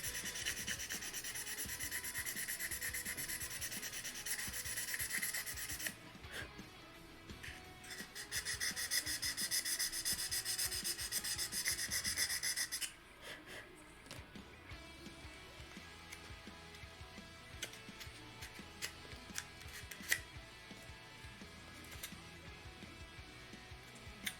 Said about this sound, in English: It's up to you guys how you feel about these scrapey noises.